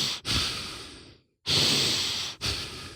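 A person imitates heavy breathing with long, loud, rasping inhales and exhales, close up and alone, separated by a short silent pause.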